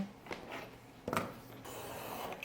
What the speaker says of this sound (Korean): 이 위쪽은 먼저 깔끔히 잘라서 기준선으로 만들어 줄게요